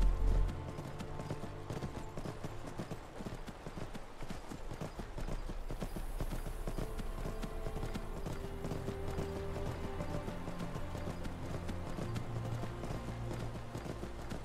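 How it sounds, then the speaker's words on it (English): Steady clip-clop of galloping horse hooves in Skyrim runs throughout, loud and rhythmic, with an occasional faint whinny over a droning game-like background. "My thundering horse hooves."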